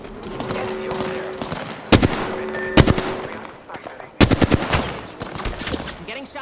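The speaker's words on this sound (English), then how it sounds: "I'm getting shot." Gunfire in the Apex Legends video game: bursts of rapid automatic shots alternate with sharp single cracks, loud and close, over a constant background of game sound.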